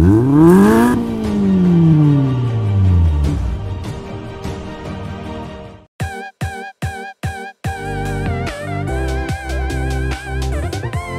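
A Kia Seltos with a 1.4-litre turbocharged petrol engine and 7-speed dual-clutch gearbox revs hard, its pitch climbing steeply. Then comes a rapid series of sharp, choppy blips and bursts, loud and close with no voices.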